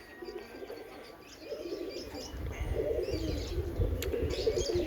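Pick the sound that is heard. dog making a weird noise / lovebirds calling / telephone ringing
lovebirds calling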